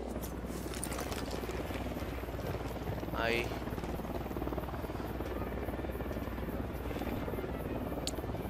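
A helicopter in Tom Clancy's Ghost Recon Wildlands drones steadily in the background, a continuous buzzing rotor hum at moderate distance, while people talk over it.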